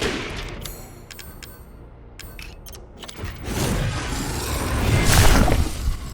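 Gunfire in Resident Evil Village, with a run of sharp shots building to a loud, dense burst near the end.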